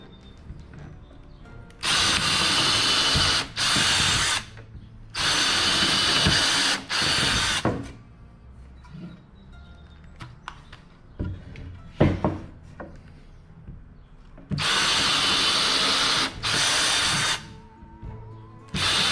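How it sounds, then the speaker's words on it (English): A power drill with a bit pre-drills holes into the corners of a wooden frame being built for a haunted walkthrough, whirring in several loud bursts of a second or two each, separated by quiet pauses and light handling clatter. "we're going to use a drill, and we're going to use a bit here, and we're going to pre-drill holes in all of the corners here"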